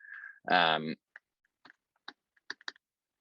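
Computer keyboard hotkeys pressed by an artist working in a drawing program: a short burst of voice comes first, then a scattered series of light, crisp key clicks at irregular intervals, close and fairly quiet.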